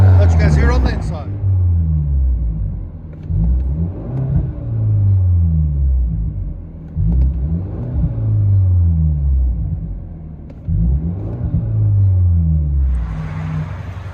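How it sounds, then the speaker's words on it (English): Heard from inside the cabin, a 2017 BMW 430i 2.0L turbo with a straight-pipe exhaust and resonator and muffler delete gives repeated deep, rumbling accelerations, rising and falling in several pulls. "BMW 430i. Straight pipe, resonator muffler delete."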